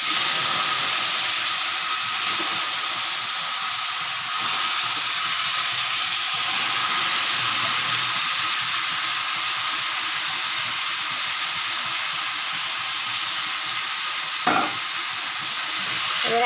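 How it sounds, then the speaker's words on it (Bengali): Marinated nihari fish frying in a pan give a steady, close sizzling hiss that holds evenly throughout, with a few faint stirring scrapes and no talking. "এবারে দিয়ে দেব মাখানো মাছগুলো।"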